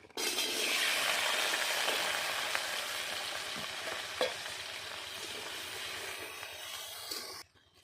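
Potatoes frying in hot oil for ghugni, a dense, steady sizzle that stays loud and close for most of the stretch before cutting off near the end, with faint stirring ticks and no talk.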